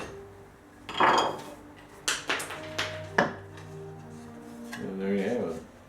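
Chopped cherry waste being pushed out of hand-cut drawer dovetails, a few sharp woody knocks and taps close by, spaced irregularly, with quiet shuffling between them.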